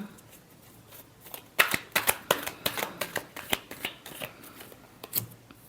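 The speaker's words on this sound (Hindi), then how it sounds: "Last shuffle." Tarot cards are shuffled close up in a short burst of rapid, evenly spaced riffling snaps, soft at first and then briskly rhythmic.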